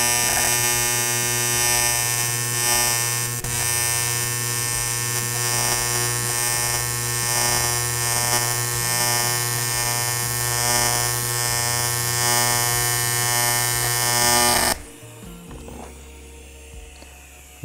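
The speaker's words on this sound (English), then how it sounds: "I'm welding cans." A junkyard welder fusing thin metal cans gives a steady, loud electric buzz with a dense crackle that holds for about fifteen seconds, then cuts off abruptly, leaving a quiet low hum.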